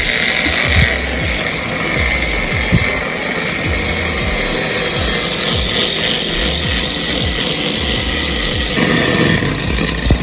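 A power tool fitted with an abrasive pad cleans and smooths welds on a steel piece, giving a loud, continuous whir and grinding hiss that runs steadily throughout, with a few short scrapes and bumps as the pad works the metal.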